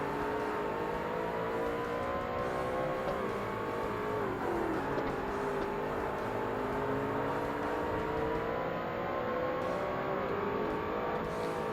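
A Honda NSX race car in Forza Motorsport holds a loud, continuous engine whine through an endurance race, pitch rising and dipping with gear changes and braking, with no voices.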